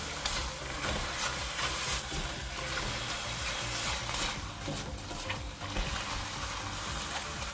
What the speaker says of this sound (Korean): 꽈리고추와 청홍고추를 넣고 중강불에서 재빨리 볶아줍니다.